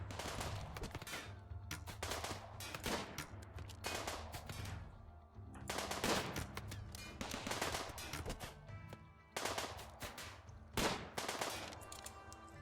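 Turrets defending a colony in the video game Rimworld fire in rapid, dense bursts of gunfire, sustained and loud with short gaps, with no talk over it.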